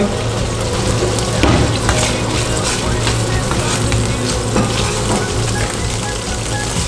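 Garlic sizzles steadily in hot oil left over from cooking in a pan, a dense, close crackle that stays even throughout with no talking.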